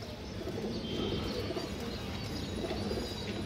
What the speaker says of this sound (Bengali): খুব সুন্দর একটা মাদি কবুতর মাশাআল্লাহ